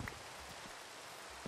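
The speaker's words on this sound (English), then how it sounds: "It's always raining!" Rain in the Minecraft Enigmatica 2 Expert modpack, a soft, steady patter of falling drops that stays faint and even throughout.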